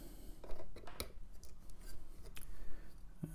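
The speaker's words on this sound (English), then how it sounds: "Okay, just snip off these legs." Small cutters snip the component legs on a Commodore 64 RAM expansion board, giving several quick, close, crisp clicks at an irregular pace over a faint background with no talking.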